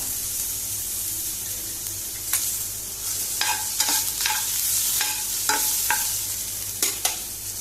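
Tomatoes fry in a pan as asafoetida goes in for a Konkani vegetarian thali, a soft continuous sizzle under a run of sharp spoon-on-pan stirring clicks, close and unhurried.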